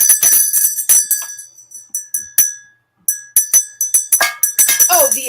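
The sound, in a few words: cowbell ringing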